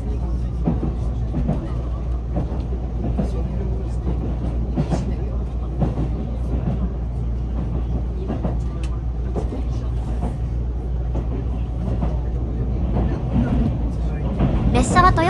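An Iida Line limited express Inaji train rolls along the rails across the Toyokawa river, a steady rumble with faint rhythmic clicks, heard from on board beneath a voice.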